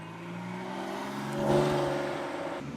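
A Porsche sports car rolls past at a Las Vegas rally, its engine note rising into a brief rev and then easing off, close and fairly loud.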